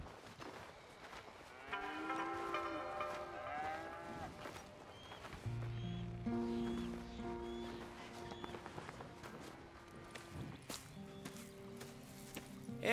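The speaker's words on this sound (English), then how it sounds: "Here's the cows." Cattle in a farm setting in Red Dead Redemption 2 low several times, long mooing calls at moderate distance over a soft ambient background, without talk.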